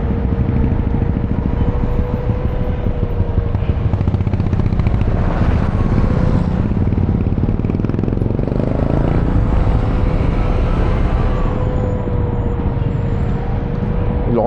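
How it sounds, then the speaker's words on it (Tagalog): A 300cc Vespa scooter's cooling fan whirs loudly and continuously over the idling engine's steady low rumble, close by and unbroken throughout. "Bumukas na yung fan."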